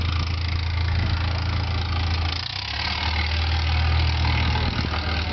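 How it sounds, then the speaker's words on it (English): An old tractor engine runs steadily at a tractor pull, a continuous low rumbling idle heard from a distance amid outdoor background noise, with no talking. "And old tractor running over there."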